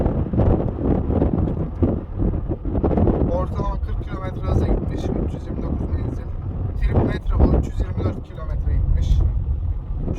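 An Opel Corsa with a 1.4 petrol engine pulls away slowly, its low engine hum and road noise steady beneath talk, with some wind rumble on the microphone.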